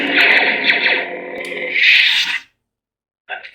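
Ignition of a KR Sabers Luke Skywalker hero Neopixel lightsaber with a Proffie board, a loud buzzing, distorted electronic whoosh swelling into a hum, then a brief silence before another burst of effects.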